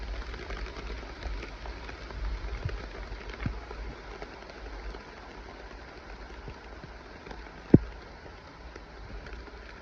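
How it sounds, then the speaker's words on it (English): Rain pattering on a homemade deer stand roof built from 2x4s, a soft steady patter with a low background rumble and one sharp knock near the end, no voices. "it is now raining and I'm not getting wet"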